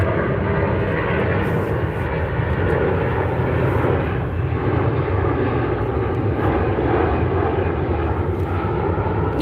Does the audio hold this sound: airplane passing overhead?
yes